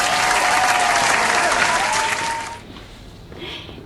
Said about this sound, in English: Please give a big hand.